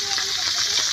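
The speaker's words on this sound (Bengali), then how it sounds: "মাছগুলো ভাজা হইতেছে" Fish frying in a pan at an outdoor picnic cookout: steady, dense sizzling hiss filling the whole second, close and loud, with no pauses.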